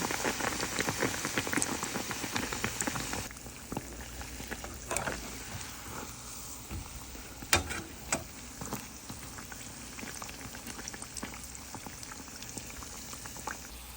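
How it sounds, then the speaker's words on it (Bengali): Potato-stuffed bread dipped in gram flour batter fries in hot oil, giving a steady dense bubbling sizzle with crackling pops throughout, close and fairly loud, with no talking. "বেসনের গুঁড়োতে চুবিয়ে ভাজি করব।"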